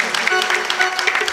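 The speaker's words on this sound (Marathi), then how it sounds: "जोरदार टाळ्या वाजवा साऊंड सिस्टीम साठी" Audience applause erupts at a live comedic bharud folk performance, a dense, steady clatter of clapping with some voices mixed in.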